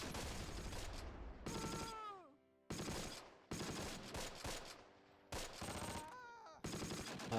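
Gunfire in the WWII strategy game Close Combat: The Longest Day on a beach battlefield, loud sharp bursts and fusillades broken by brief silent gaps and falling whistling tones, with no speech.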